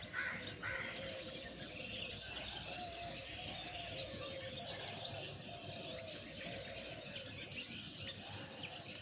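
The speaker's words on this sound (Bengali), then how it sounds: "কত রকমের পাখির আওয়াজ।" Morning birdsong from a street corner among houses, where pigeons and mynas gather, with many overlapping chirps, tweets and calls at moderate distance over faint background ambience, and no speech.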